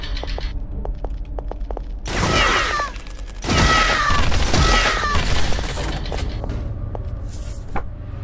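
Assault rifle fire in the Beyond Citadel game demo, loud bursts of rapid shots crackling close by in two main volleys, with clicks and mechanical rattles before and between them, no talking.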